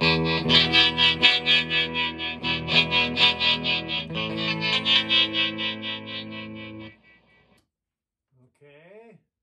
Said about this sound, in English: the normal channel, with the tremolo on.